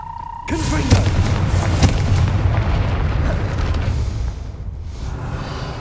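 A Confringo fire spell going off in Hogwarts Legacy: a loud booming blast with a sharp onset, then a sustained rumbling roar that slowly fades over several seconds, with faint game speech mixed in.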